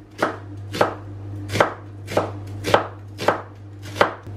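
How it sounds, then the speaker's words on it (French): A knife slicing an onion on a board, seven crisp evenly spaced chops about every half second, close and clear with no talk. "La première étape c'est d'émincer l'oignon"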